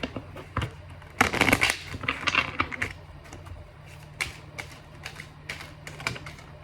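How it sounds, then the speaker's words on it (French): Tarot cards are shuffled and cut by hand for a nine-card spread, giving dense papery riffling and tapping bursts up close, busiest early on and then sparser clicks of cards being squared. "Je vais mélanger, je vais couper comme je fais d'hab."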